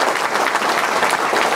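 Applause for a deputy at a public hearing in Santa Catarina, a dense, steady crowd clapping that holds at an even loudness throughout without a break.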